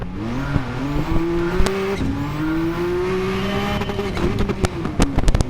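A Porsche 962 race car with a 6.2-litre, 690-horsepower engine and five-speed manual gearbox revs loud and close. Its deep, buzzing note climbs and holds, then dips and rises again, with sharp crackles near the end.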